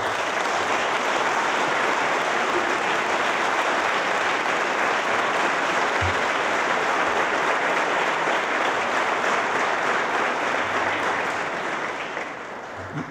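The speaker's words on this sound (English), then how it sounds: "We'll give them a round of applause." A large audience applauds police officers at the 2016 Jersey City State of the City Address. The clapping is dense, loud and sustained, then eases off near the end.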